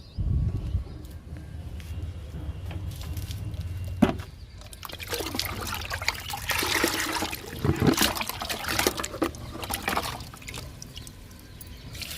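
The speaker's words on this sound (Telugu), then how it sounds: "ఇంక ఈ 2 మొక్కలకి లిక్విడ్ ఇద్దాము." Liquid fertilizer pours into potted flowering plants, a steady splashing and trickling stream that grows louder and more turbulent in the middle before easing off, close by with no talking.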